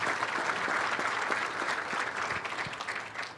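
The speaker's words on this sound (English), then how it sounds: "So let's just give them all a round of applause to welcome in" An audience at an annual meeting applauds to welcome a group, a steady burst of clapping from many hands filling the room, with no voices over it.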